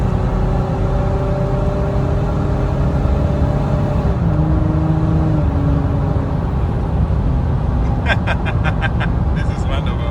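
Nissan Navara V9X engine running through a home-built custom exhaust, a loud, steady low drone with faint shifting tones and a quick burst of clicks near the end.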